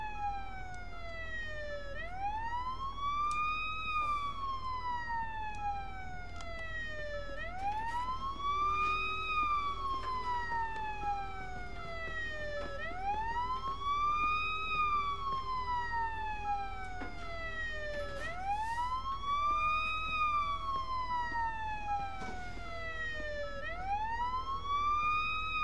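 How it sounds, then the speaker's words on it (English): Police car siren in the Police Simulator patrol video game, a loud wailing siren rising and falling in slow repeating sweeps, with a steady low engine hum beneath and no talk. "You can shut your siren off."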